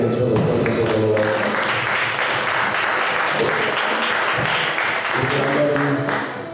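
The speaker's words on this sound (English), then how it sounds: "Come on, clap your hands for the presence of the Lord." Church congregation clapping hands during worship, a loud sustained wash of many hands, with organ or keyboard chords and voices carrying underneath.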